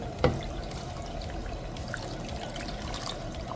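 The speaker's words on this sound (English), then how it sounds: "I'm gonna be adding some water." Water pours and trickles steadily into a cooking pot for bitterleaf soup, a soft continuous liquid sound after a brief knock at the start.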